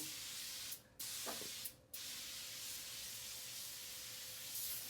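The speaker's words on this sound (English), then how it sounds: "you've got to use the non-stick spray. I saturate it really well" Two short bursts of non-stick cooking spray hiss, each about a quarter second, close by against a quiet room background.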